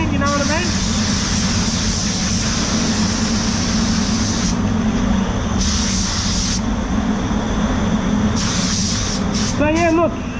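A car detailer's spray gun with a 1.3 nozzle hisses in steady bursts, loud and close, with talk in the background.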